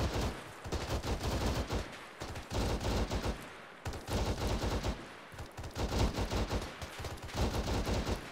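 Sustained bursts of rapid automatic gunfire in a video game, loud and close, with brief pauses between volleys and no speech.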